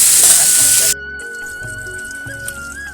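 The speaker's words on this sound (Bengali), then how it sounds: "আলুগুলো একটু ঢাকা দিয়ে ভেজে নেব।" Potatoes fry with salt in hot oil in a kadai, covered with a lid. A loud, dense sizzle lasts about a second, then drops to a faint hiss with a few soft clinks.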